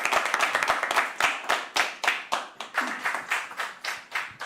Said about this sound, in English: Can we please have a applause?